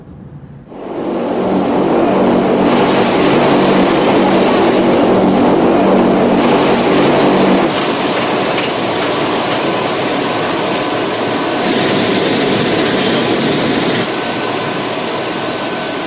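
An American cargo aircraft roars loudly as it passes, the engine noise swelling within the first second into a sustained broadband jet and propeller drone with a persistent high whine, shifting in tone midway and staying strong to the end.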